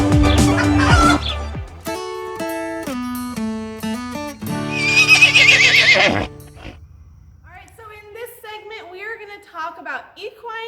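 A 22-year-old American Paint mare whinnies loudly at close range, a long shrill neigh that descends in pitch and then breaks into shorter fluttering calls, with the sound dying off toward the end.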